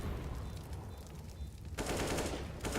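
Gunfire in Counter-Strike: Global Offensive during a professional NaVi vs Fnatic match, rapid automatic bursts of shots fairly faint at first, then a denser, louder flurry in the second half.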